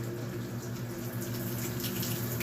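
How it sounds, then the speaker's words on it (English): A Black+Decker 2.0 cu. ft. small portable washing machine spins and drains, giving a steady droning motor hum under a continuous gush of running water, close and even. "it's gonna start spinning so it can finish draining"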